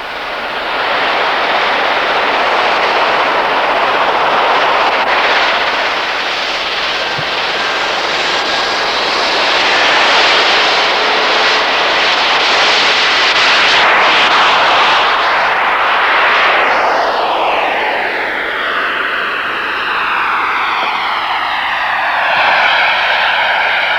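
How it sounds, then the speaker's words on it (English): Starwing MC flying-wing jet aircraft with a JPX jet engine taxiing at a 1995 air show, a loud, steady roaring whine that holds throughout, with sweeping tonal shifts as it passes, and no voices. "the first aircraft was taxiing out for takeoff"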